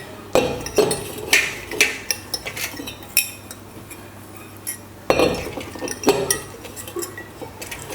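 Bronze vessels being scrubbed by hand, with repeated metallic clinks and scraping knocks of the utensils against each other, close and fairly loud, in irregular bursts over a low steady background.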